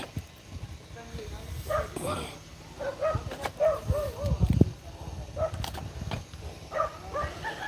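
Dogs bark in a neighborhood in scattered bursts, moderately near and mixed with someone talking over them.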